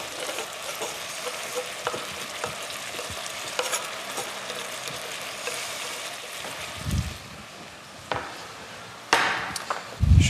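A spoon stirs coquillette pasta with peas and ham in a pan, scraping and clinking against the metal under a constant sizzling simmer, with a few louder knocks and thumps toward the end.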